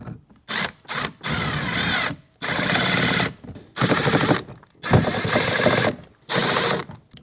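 Power drill driving screws to mount a replacement Bose speaker in a Duramax Silverado door, several loud whirring bursts separated by short pauses, close by with no talking.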